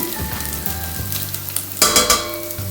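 Tomato paste and garlic fry in a pan with a constant close sizzle, and a brief louder burst of crackling and stirring comes near the end.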